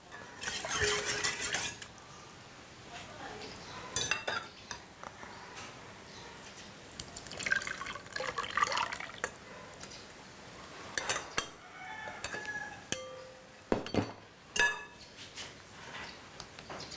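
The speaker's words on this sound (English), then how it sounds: "Just make sure it's no lump on the batter. So I'm going to sift it." Durian pancake batter is worked through a metal sieve in a kitchen, quiet scraping, tapping and clinking of utensils coming in irregular bursts, close and soft.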